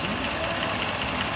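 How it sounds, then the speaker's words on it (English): A 1959 Ford Galaxie engine with solid lifters runs close by, a steady idle with rapid ticking valvetrain clatter over a low rumble, heard alone. "So now the engine's running."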